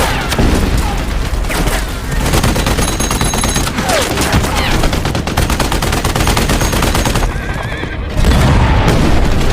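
Tank cannon fire and explosions in a film come as a dense, continuous barrage of sharp blasts and rumbling booms, with a heavier burst near the end.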